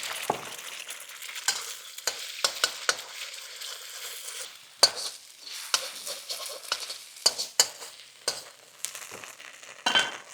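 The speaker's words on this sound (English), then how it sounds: "And now I'm gonna add a few scrambled eggs." Scrambled eggs frying in oil in a wok on an Impulse induction wok ring running at 4 kilowatts, with a loud crackling sizzle broken by repeated sharp spatula scrapes and stirring clanks, close and without talk.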